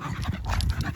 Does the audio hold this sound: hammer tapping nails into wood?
no